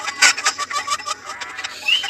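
Rapid, fairly loud clucking from a chicken in a video game, a string of short bursts with a higher squawk near the end; no voices.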